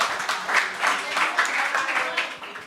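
Audience applause for a Marathi rapper at a live rap show, a steady patter of many clapping hands that swells and dips for a few seconds.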